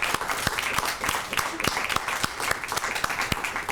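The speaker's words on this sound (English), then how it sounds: "And while you're busy applauding, I'd like to ask for another round of applause for Kristen" Audience applause at an evening arts-and-grieving event at Harvard, a steady wash of many hands with a few sharper individual claps popping out, fairly close and continuous throughout, with no talking.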